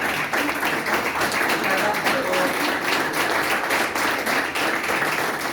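An audience at a book presentation applauds in a full, dense wash of clapping that holds steady and loud throughout, with chatter blended underneath.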